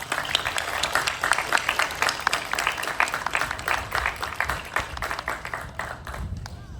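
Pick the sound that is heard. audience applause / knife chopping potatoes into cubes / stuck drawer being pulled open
audience applause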